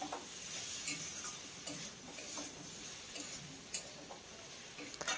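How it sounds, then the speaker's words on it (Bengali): Cabbage curry being mixed with fried dal in a pan, giving a quiet continuous sizzle with scattered soft spatula scrapes and light ticks, steady and fairly faint, without speech. "আর এখন এই সময় দিয়ে দিতে হবে ভেজে রাখা সেই ডালটা দিয়ে খুব ভালো করে মিশিয়ে নিতে হবে।"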